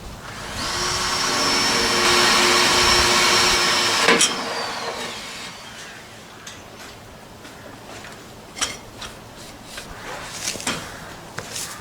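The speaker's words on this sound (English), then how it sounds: "so that's the pilot hole dug. Drilled, it went through quite well actually" An electric drill whines steadily for about three seconds while boring a pilot hole for a gutter bracket, then winds down abruptly, followed by light clicks and handling knocks.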